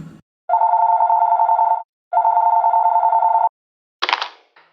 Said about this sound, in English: But before you roll, you get a phone call.